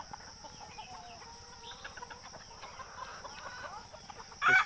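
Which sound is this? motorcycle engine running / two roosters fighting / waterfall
two roosters fighting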